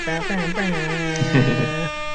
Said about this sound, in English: That gets a horn though, DJ air horn